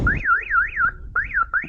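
A police-siren style horn on a Hero Splendor Plus motorcycle wails in quick rising-and-falling electronic sweeps, loud and close, with a short break before it resumes twice.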